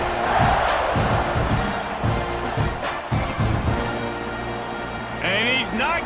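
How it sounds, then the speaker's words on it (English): A roaring stadium crowd buzzes and cheers in a college football video game between Oklahoma and Texas A&M, a broad swelling roar under commentator speech, with whistle-like tones near the end. "this crowd is buzzing after that last score"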